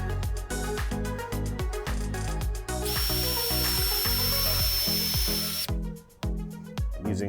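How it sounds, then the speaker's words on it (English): A power drill drilling pilot holes in redwood whirs in short repeated bursts, then runs in one longer high-pitched spin before more quick bursts of drilling. "We're gonna drill some pilot holes here real quick."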